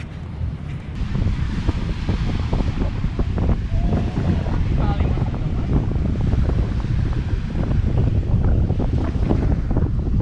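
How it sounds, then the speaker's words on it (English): Big surf rolling in at sunset on Gili Trawangan, a steady loud wash of waves with heavy wind buffeting the microphone throughout. "It's fun watching the big surf roll in."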